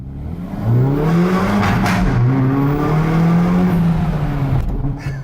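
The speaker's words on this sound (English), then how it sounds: "I've got the exhaust in its sportiest setting, tunnel ahead of me, window down." Hyundai i30 N 2018 hot hatch with a 2-litre turbo engine and sports exhaust in its sportiest setting, revving loudly through a tunnel with the window down, rising and falling engine notes echoing close by.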